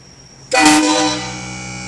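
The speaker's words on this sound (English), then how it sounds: "Testing out the train horn." A train horn fitted to a vehicle sounds one loud, close blast that starts abruptly, then sags and weakens toward the end as its air supply runs down.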